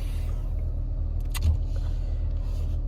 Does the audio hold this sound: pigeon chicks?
no